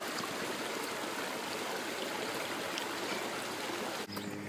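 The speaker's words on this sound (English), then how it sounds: "Hello, little creek." A small creek flows in a continuous, gentle rush and trickle of water, steady and close throughout, with a faint handling bump near the end and no speech.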